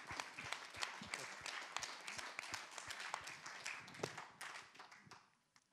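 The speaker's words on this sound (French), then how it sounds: "Non, mais on peut applaudir." An audience at a poetry reading applauds in a steady, fairly distant burst of many hands clapping that fades out near the end.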